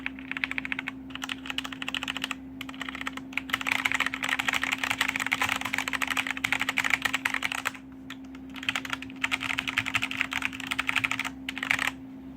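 Fast, continuous clicking of keys on a Corsair K95 mechanical keyboard with Cherry MX Red switches, close up, in bursts with brief pauses, over a faint steady hum.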